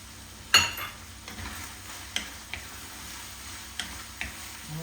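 Green onions fry with ground beef and pork under a soft, steady sizzle, broken by a few sharp clicks of stirring.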